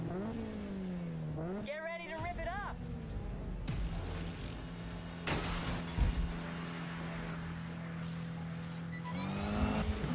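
A race car engine in Need for Speed revs and shifts through rising gear pitches, holding a steady drone between climbs, while a voice talks over it.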